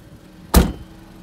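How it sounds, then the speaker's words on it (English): The rear seat of a 2019 Honda CR-V folds down after its lever is pulled, landing with one solid, close thud that fades quickly into quiet. "You can even lay down the seats from here."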